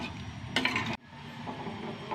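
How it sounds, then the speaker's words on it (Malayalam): A spoon stirs sour buttermilk curry in a pot over low heat, making a brief scraping swish about half a second long amid a soft simmering hiss. The sound is quiet and close, with no voices. "ഇളക്കി കൊടുക്കണം"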